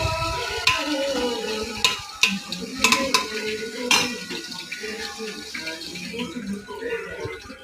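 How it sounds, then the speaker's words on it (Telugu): Bitter gourd slices, washed, dried and cut into rounds, frying in oil in a pan, with a soft sizzle under repeated metal utensil clinks and scrapes against the pan. "తర్వాత ఆయిల్లో తడంతా పోయే వరకు ఆయిల్లో ఫ్రై చేసుకొని పక్కన పెట్టుకోవాలి"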